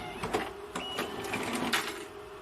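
An Evolis Primacy card printer running a print job, giving a steady mechanical whir with small rhythmic ticks and clicks, fairly quiet and close.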